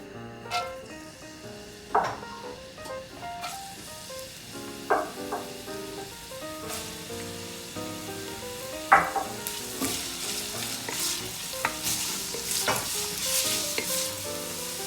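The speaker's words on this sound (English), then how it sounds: "Then I'm gonna add my carrot, celery, and onion, my mirepoix." Carrot, celery and onion sauté in olive oil in a Dutch oven, with a steady crackling sizzle and periodic scrapes and knocks of a spoon stirring the vegetables, close and growing busier toward the end.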